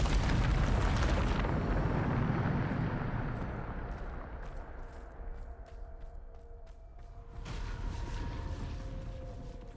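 A Bombarda blasting spell detonates in Hogwarts Legacy: a loud, sudden burst opens, then a long rumbling roar slowly fades before swelling up again near the end.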